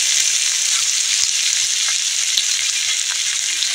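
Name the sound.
garlic frying in oil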